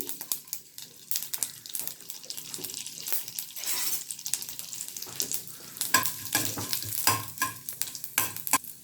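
Chana dal and a red chilli frying in hot oil during tempering for an Indian dish, with a steady sizzle and crackle plus scraping stirs and sharp pops throughout, no talking.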